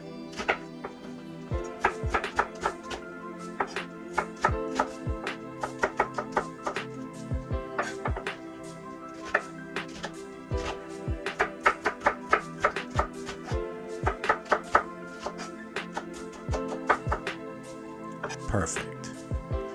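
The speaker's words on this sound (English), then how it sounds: "With our onion, we're going to go ahead and cut that in half and then chop that up." A knife chops an onion on a cutting board in quick, uneven runs of close taps and knocks that continue throughout, under steady talking.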